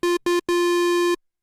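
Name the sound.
square wave oscillator on Korg Prologue analog synthesizer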